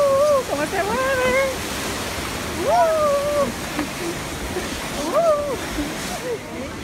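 The river at Los Cahorros near Monachil, Granada, flowing below a hanging suspension bridge: a steady broadband rush of water under several shouting voices.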